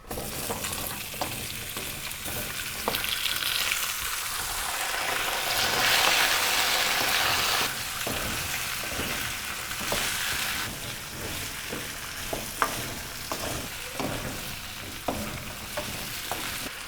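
Steady sizzling of potatoes frying in ghee over low heat, a continuous crackling hiss with occasional stirring clinks, close and fairly loud, no voices.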